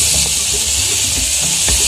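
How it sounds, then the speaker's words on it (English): Tomatoes dropped into a hot frying pan while cooking traditional African greens and silver fish, giving a steady, loud broadband sizzle and hiss with a few faint knocks underneath. "I will now add tomatoes."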